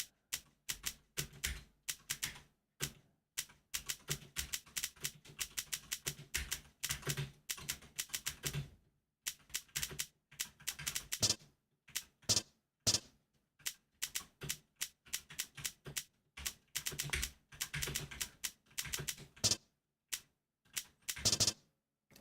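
Rapid keystrokes on a computer keyboard during a typing game, coming in quick bursts of clicks with short pauses between them, close and crisp, with no talking.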